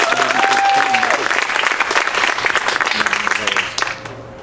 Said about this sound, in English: All right, big round of applause for Virginia.